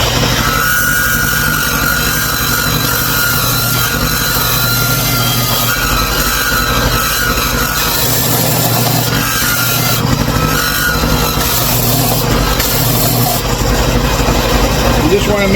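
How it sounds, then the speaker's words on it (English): A belt sander grinds along the edges of a wooden toy train caboose, a loud continuous abrasive whir with a steady low motor hum that holds unbroken from start to end. "at the belt sander here, like I said, we're going to take this here, and we're going to sand this here"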